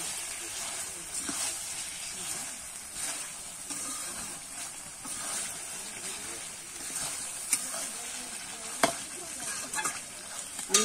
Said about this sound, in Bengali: এবারে কিন্তু আবারও কিন্তু এইভাবে কষে নেব ভালো করে।